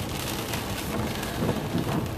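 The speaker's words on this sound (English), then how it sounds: "it's a, you know, rainy, wet day" Steady rain falls on a wet spring day outdoors near a trailer, a dense continuous hiss of drops on surfaces with no voices, fairly loud and even throughout.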